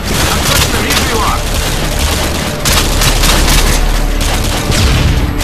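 Continuous gunfire and booms from the Call of Duty Modern Warfare 2 video game, loud and dense volleys of rapid shots with a few heavier blasts throughout, no breaks.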